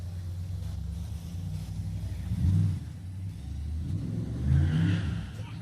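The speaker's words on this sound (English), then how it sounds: "They have what's called cruising the pit in Owosso. Everyone's out there with all kinds of makes and models of cars." Car engines rumble and rev as vehicles of many makes and models cruise around a pit area in Owosso, two swelling revs rising over a low steady drone at a moderate distance.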